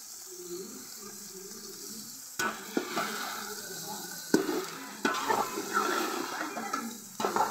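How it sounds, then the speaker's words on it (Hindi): Chicken pieces dropping into hot oil in a cooking pot for pulao, a soft hiss that bursts into louder, uneven sizzling and spattering, with sharp clacks of the spoon against the pot. "ये अब मैं डालने लगी इसमें चिकन।"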